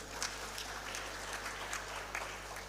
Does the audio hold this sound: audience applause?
yes